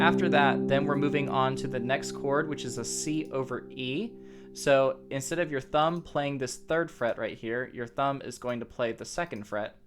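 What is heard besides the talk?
No everyday noise stands out behind the speech.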